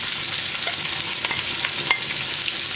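Green peppers frying in hot oil in a home kitchen pan, a loud, dense crackling sizzle with scattered pops, continuous and close, with no talking.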